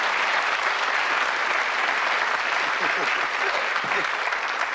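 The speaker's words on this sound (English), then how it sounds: "Give them a round of applause, folks." Steady, sustained applause from a television studio audience, clapping evenly throughout at moderate loudness with a few voices murmuring underneath.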